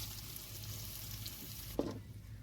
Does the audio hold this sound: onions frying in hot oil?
yes